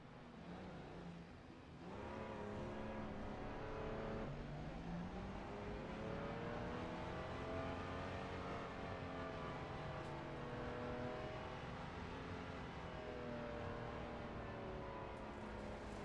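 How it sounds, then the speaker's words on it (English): Ferrari 296 race car in Assetto Corsa Competizione, engine note climbing through gears at the Red Bull Ring, a loud, sustained whining roar with rising pitch sweeps and brief shift dips. "I'm actually driving the Ferrari 296."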